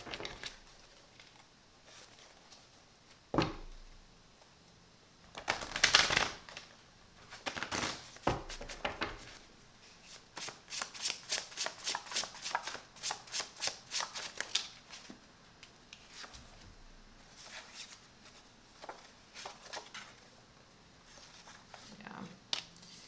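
A deck of cards is shuffled nearby in several bursts: a long riffle, then a run of quick rhythmic bridging snaps. A quiet stretch separates the bursts, and no voice is heard.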